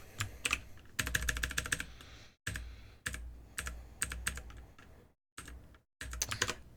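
A mechanical keyboard with its stock switches is typed on up close, bursts of rapid crisp clacks broken by short silent gaps, with no voices.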